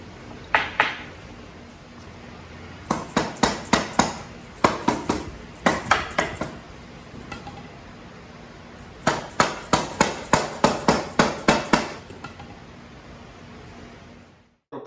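Bolts are hammered into a wooden folding hammock stand in sharp, loud strikes that come in quick runs of four to ten blows separated by short pauses.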